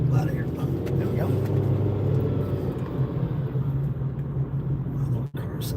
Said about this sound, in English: My little car sounds sad.